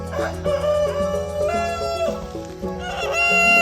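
Country chickens raised for meat, birds near three kilos that graze on green grass, crow and cluck in a steady overlapping chorus, loud and close with no talk.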